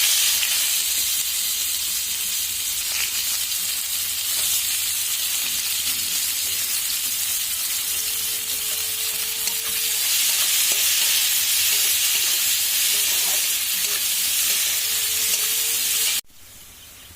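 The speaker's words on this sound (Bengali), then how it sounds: "এবার আমি দিচ্ছি এর মধ্যে কালো জিরে ফোড়নে, দিচ্ছি দুটো গোটা শুকনো লঙ্কা, এবার দিচ্ছি পেঁয়াজ কুচি।" Chopped onion fries in hot oil with nigella seeds and whole dried red chillies, a steady loud bright sizzle held close throughout, with a few soft stirring scrapes, ending in an abrupt cut.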